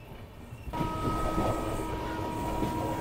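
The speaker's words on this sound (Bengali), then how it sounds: "এই আলুয়াবাড়ি রোড জংশন ছাড়ার পরে আমাদের ট্রেনটা এই বাঁ দিকে টার্ন নিচ্ছে" A passenger train pulling out of Aluabari Road Junction on the Kolkata to New Jalpaiguri line and curving left toward Siliguri: a close, steady rolling rumble rises after a quieter moment, joined by a sustained high wheel squeal.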